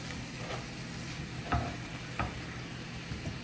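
Vegetables for a jerk cream chicken and shrimp pasta sauté in a pan over medium heat, giving a continuous close sizzle broken by a few sharp utensil scrapes and knocks as they are stirred, with no voices.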